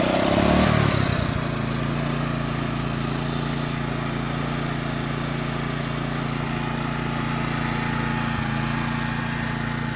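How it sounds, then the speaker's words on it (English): A warm Honda EX800 generator starts on the first pull and settles into a steady, moderately quiet running hum with no load, continuous and close, with no talking. "they make some seriously quiet Honda's generators. So let's turn her on."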